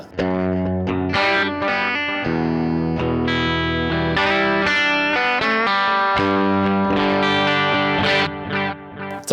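Electric guitar picked clean through Sonicake delay and reverb pedals, sustained notes ringing into a continuous ambient wash of echoes and reverb, loud and steady with no talking.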